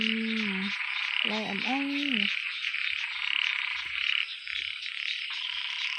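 Small frogs croaking at night in the rain, several close, warbling croaks in short bursts early on over a steady bed of rain and insect-like hiss, with someone speaking softly.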